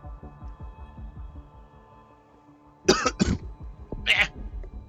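Short bursts of coughing and throat clearing from the Plague Inc. video game, two or three sharp close coughs following a low rhythmic hum, with talk around them.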